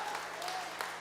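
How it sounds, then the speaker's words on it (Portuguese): Faint, steady applause from a church congregation during a sermon, a dense wash of many hands clapping at a distance with no break. "aplauda esse Jesus"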